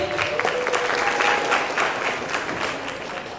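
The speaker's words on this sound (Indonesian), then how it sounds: "Tepuk tangan buat Dion." A campus crowd at an IM3 Play Online event in Malang applauds a guest speaker, a loud wash of many hands clapping together that thins slightly toward the end.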